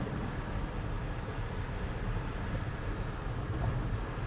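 Wind rushes steadily into a moving car on a highway road trip from Siliguri to Varanasi, making a constant loud, broadband roar with low rumble and no breaks.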